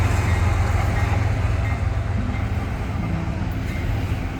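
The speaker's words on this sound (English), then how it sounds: "I was interrupted by CSX I-1020 on its way to Worcester" CSX I-1020, a freight train bound for Worcester, Massachusetts, rumbles past Goodman Street Yard in Rochester, New York, as a steady, loud low drone that holds throughout with no voices.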